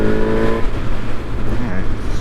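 A Honda Hornet 1000 SP motorcycle engine revs as the throttle rolls on, a loud, close rising drone heard while someone talks over it.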